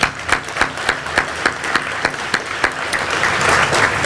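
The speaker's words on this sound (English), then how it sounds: "So a round of applause." An audience applauds at a grand opening ceremony for a housing development, loud dense clapping with several sharp individual claps standing out near the microphone, continuing steadily to the end.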